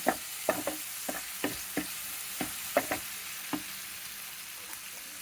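Tomatoes with salt frying in a pan, a steady close hiss of sizzling oil punctuated by a dozen or so soft spitting pops, with no voices.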